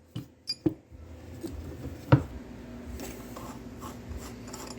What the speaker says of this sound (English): we could tighten the nut on the thrust bearing